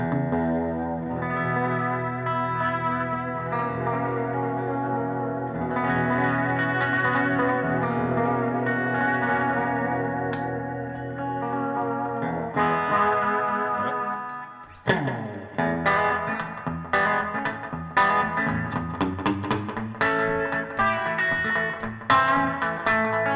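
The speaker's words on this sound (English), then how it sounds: "on the amp, I have harmonic vibrato, so it sounds very much like a univibe." An electric guitar plays through an amp's harmonic vibrato, giving a wavering, univibe-like throb. Sustained chords come first, then choppier plucked phrases, played alone at a moderate level.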